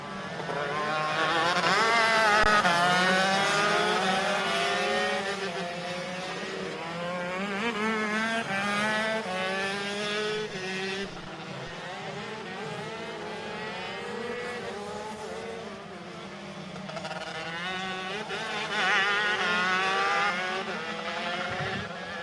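Pro and Master Rok shifter karts racing at Sonoma, engines screaming past in waves as several karts rise and fall in pitch through gear changes, loud and continuous, with no voices.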